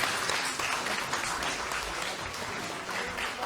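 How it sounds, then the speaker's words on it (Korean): A crowd at a party leadership joint campaign rally in Gyeongbuk applauds the candidates for party leader and supreme council, a dense, continuous wash of clapping holding steady throughout without a break. "고생하신 당대표 및 최고위원 후보자 모두에게 격려의 박수를 부탁드립니다."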